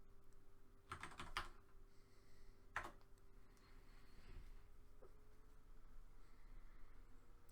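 Typing on a computer keyboard while building an ASP.NET MVC to-do list web app, quick bursts of key clicks with a few isolated taps, close and fairly quiet over a steady background hum.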